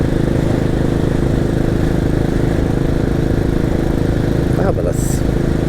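A group of motorcycles rides past on a road near a Welsh seaside town, giving a steady, loud engine drone throughout. A voice may be faintly present under the engines.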